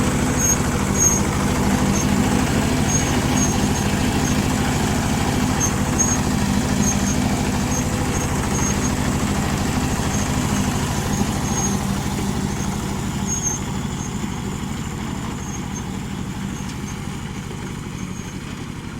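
A small modified tractor engine runs steadily and loudly for the whole stretch, a continuous low rumble with no pauses and no voices, in Nong Khai, Thailand.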